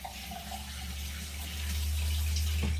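Roughly half a cup of water poured over yarn during kettle dyeing, a close, steadily swelling splash and trickle that ends with a small knock.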